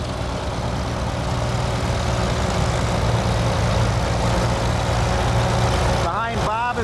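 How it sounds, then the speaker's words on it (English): A 1945 Farmall H antique tractor rolls past during an antique tractor and plow parade in Elburn, Illinois, its engine a loud, steady, close low rumble, with indistinct voices in the background. "Next tractor coming is a 1945 Farmall H, owned by Bob Klock, and it's being driven by Bob Klock."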